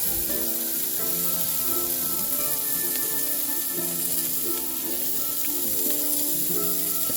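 Burger patties seasoned with salt and pepper sizzle straight over open flames on a grill, a dense, continuous crackling hiss that stays close and steady throughout with no talking.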